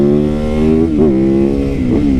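A 450 supermoto motorcycle pulls hard off the line, its engine droning steadily near and loud with a couple of brief dips as it shifts up.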